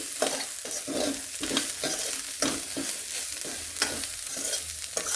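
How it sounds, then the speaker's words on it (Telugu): Chili powder being stirred into an egg and carrot mixture frying in a pan, with a steady sizzle broken by repeated scraping strokes of a spoon, close and loud with no talking. "వేసిన తర్వాత ఒక్కసారి ఇలా కలుపుకుని"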